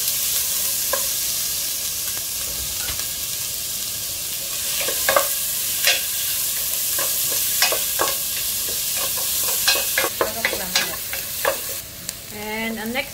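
Garlic and ginger sizzle steadily in a hot pan for a Filipino adobo with string beans, with a constant frying hiss broken by repeated scraping stir strokes from a utensil. The strokes grow denser toward the end, with no talking.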